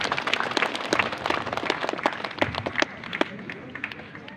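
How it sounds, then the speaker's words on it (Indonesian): An audience at a vocational school job fair in Indonesia gives a round of steady, fairly close clapping that thins out gradually toward the end. "Tepuk tangan dulu buat Bapak ini."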